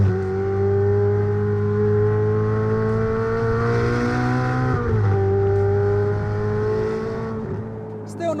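A supercar engine running in race mode, a steady, droning mechanical hum with strong tonal harmonics that shift slightly in pitch midway, then ease off near the end, close and continuous.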